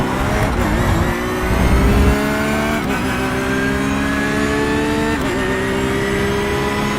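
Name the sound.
BMW GT3 race car engine in racing video game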